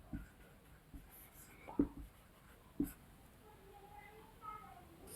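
Pen strokes scratching across paper while writing shorthand loops and circles, faint and close, with a few sharper taps and soft scrapes, with no talking.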